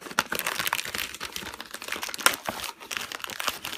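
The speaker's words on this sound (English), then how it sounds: "I'm just going to use a pair of scissors here real quick to open this up" Close crinkling and rustling of a lamp's packaging being opened with scissors, with sharp snips and tearing sounds, irregular and busy, no talking.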